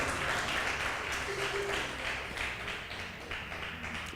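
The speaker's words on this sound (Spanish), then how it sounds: "Dale ese aplauso fuerte al Señor." A church congregation applauding, a steady wash of many hands clapping together that carries on without a break for the whole stretch, moderately loud and slightly distant.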